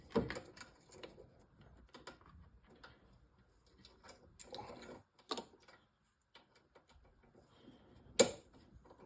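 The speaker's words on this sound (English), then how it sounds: "it's just a socket set with a 1/4 inch socket for my little bit, just to loosen these off" Faint, close clicks and taps come from a small socket wrench with a 1/4 inch socket loosening handlebar bolts on a 2007 Vectrix electric scooter, irregular and separated by quiet gaps, with one sharper knock near the end.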